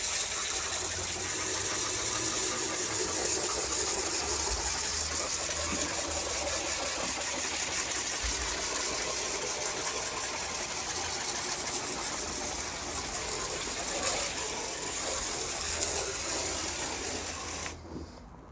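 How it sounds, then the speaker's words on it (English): Steady, broad hiss of a garden hose spraying water across a wooden deck being cleaned for refinishing, continuous and close with slight fluctuations, no talk. "let's give her a garden hose cleaning"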